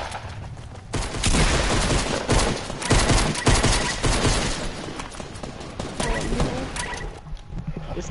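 Bursts of gunfire in a PUBG-style battle royale video game, loud sharp volleys of shots coming in clusters, with a voice talking at times.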